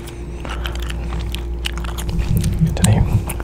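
Gum chewing close to the microphone, with soft wet chomps and crunchy bites growing more prominent toward the end over a low steady background hum.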